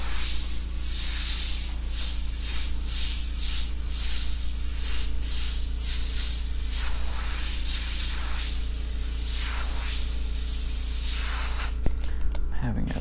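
An airbrush sprays paint onto a T-shirt in a steady loud hiss that swells in a regular rhythm of about a dozen passes, close up, ending in a brief clatter.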